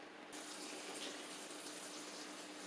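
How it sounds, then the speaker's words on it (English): Tap water running hard into a pot for boiling peanuts, a steady loud hissing gush that starts abruptly and continues without pause, close by. "I'm filling up the water"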